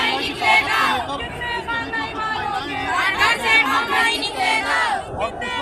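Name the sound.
crowd of women at candle march protest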